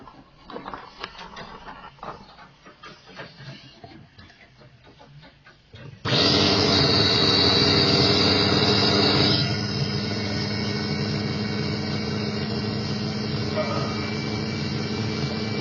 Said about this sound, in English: Let's put her on the dyno and see how she does.